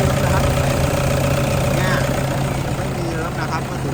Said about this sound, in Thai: เครื่องแน่นนะครับ บอกได้เลยว่าเครื่องแน่น ดังนิ่มนะครับ